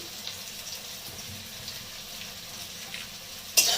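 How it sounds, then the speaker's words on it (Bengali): Onions sizzle steadily in hot oil with salt, with black cumin and sugar, for a Bengali bhola fish and eggplant dish, a soft continuous frying hiss with faint stirring scrapes and a brief sharper clatter near the end. "লবণটা দিয়ে পেঁয়াজটাকে একটু ভেজে নেবো নেড়ে চেড়ে"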